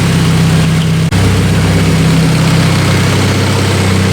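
A rear-wheel-drive Honda K24 turbo engine runs at its first start, holding a loud, steady, close idle rumble throughout with one brief dip.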